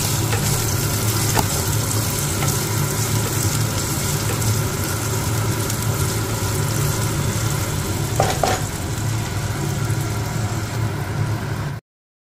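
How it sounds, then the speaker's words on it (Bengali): Rice and cashews frying in ghee for jaggery payesh, a dense steady sizzle close up with an occasional stir, no talk, ending abruptly. "এর মধ্যে একটু চালটাকে ভেজে নেব, একটু কাজু বাদামটা ভেজে নিই"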